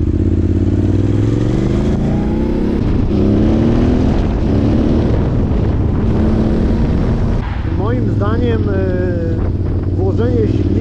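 A Yamaha Raptor 700 quad fitted with an MT-07 engine roars loud and steady throughout, its pitch rising near the end, while a person talks over it.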